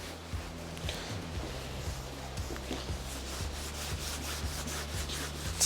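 Steady hand wet sanding of car paint with a block on a Peugeot 205 1.6 GTI, a continuous rubbing rasp with regular back-and-forth strokes, close and moderately loud with no talking.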